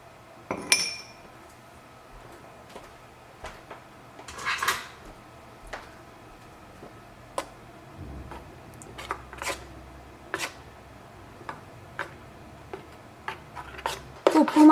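A spoon stirs salt into ground bread dosa batter in a bowl, giving sparse, light clinks and scrapes against the vessel, quiet and irregular, with no talking.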